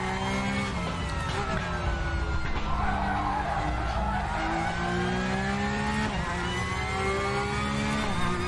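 Tyres of a Porsche 911 Carrera Cup car in the RaceRoom racing game squeal and scrub under hard braking over a continuous loud engine drone, with the pitch dipping and rising through the corners.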